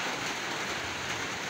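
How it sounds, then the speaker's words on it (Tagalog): Steady rain falling, a dense even hiss of drops with no breaks, fairly close and moderately loud. "Walang kahangin-hangin kasi umuulan."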